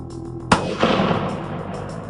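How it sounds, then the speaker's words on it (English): A single rifle shot at a buck during a hunt cracks sharply outdoors, followed by a long rolling echo that fades across open terrain, with no voices. "That big buck stepped out and they took the shot."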